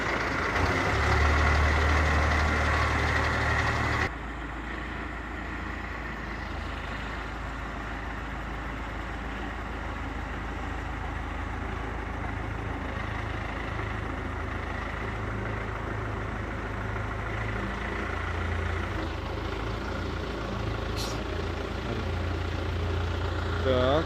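An MTZ-82 tractor's diesel engine runs steadily at a low throb, a bit louder at first and then settling to an even drone as it pulls away, with people talking over it.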